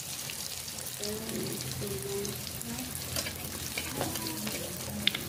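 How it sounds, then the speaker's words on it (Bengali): Chopped onions and green chillies fry in oil with cumin seeds, a continuous soft sizzle with occasional stirring knocks and faint talk underneath. "কেটে রাখা পেঁয়াজগুলোকে ভেজে নেব ভালো করে"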